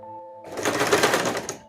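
A sewing machine stitching a zigzag border on a saree starts up after a faint tone and runs in a fast, rattling, close burst of stitches for about a second before stopping.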